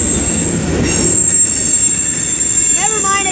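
A mixed freight train with a single engine rolls by loud and close, its steel wheels squealing with a sustained high whine over rumbling cars, and a brief rising squeal near the end.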